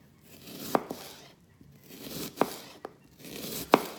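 A knife chops an onion on a cutting board with three sharp, evenly spaced cuts, close and clear against a quiet room.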